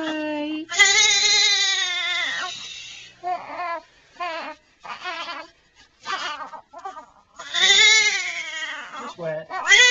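A baby cries in loud, cat-like wailing bursts with short pauses between them during a diaper and clothes change, close by, while an adult speaks softly at moments.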